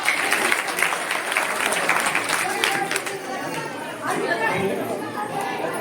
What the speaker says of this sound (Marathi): आपल्या लेकरासाठी आपण जोरदार टाळ्या वाजवायच्या